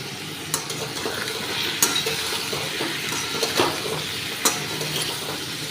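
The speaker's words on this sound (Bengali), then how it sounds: "এবারে বেশ কিছুক্ষণ একটু নাড়িয়ে নিচ্ছি।" A spoon stirs pumpkin curry with salt, turmeric and a little sugar as it fries in a pan, a steady close sizzle broken by repeated scraping and clinking knocks of the utensil against the pan.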